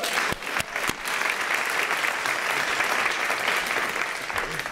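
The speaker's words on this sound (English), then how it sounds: "So I just want us all to give another round of applause to the home team." A large audience applauds the home team at a formal morning event, sustained dense clapping at steady loudness throughout, with a few sharper claps near the start.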